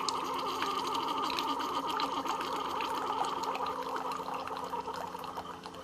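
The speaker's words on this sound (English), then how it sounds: "That's going to run hot water through that K-Cup into your drink." Keurig brewer pushing hot water through a Twinings Calm tea K-Cup, a steady gurgling, trickling pour with a constant mechanical hum underneath, close and continuous.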